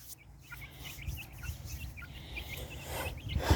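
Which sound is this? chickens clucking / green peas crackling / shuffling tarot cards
chickens clucking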